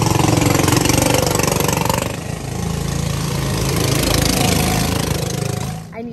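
A go-kart engine runs close by inside a shop, a loud buzzing drone that shifts and dips after the first couple of seconds, then cuts off abruptly near the end.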